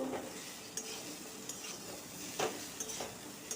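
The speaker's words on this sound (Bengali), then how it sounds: "ভাজা পটলগুলোকে দিয়ে আরও খানিক্ষণ কষিয়ে নেবো" Fried pointed gourds stirred in a pan with frying spices, giving a soft, quiet sizzle and several light spatula scrapes and taps against the pan, heard close with no talking.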